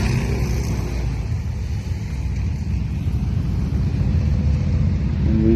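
A group of about fourteen motorcycles rolls past on a birthday ride, heard as a dense, steady low engine rumble mixed with wind buffeting, loud and close throughout.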